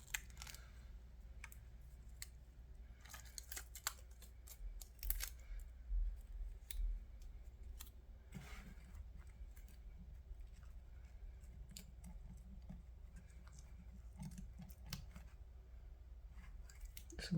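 Scissors snip at a wet onion in a quiet close-up, with sharp intermittent clicks and snips scattered over a faint low hum.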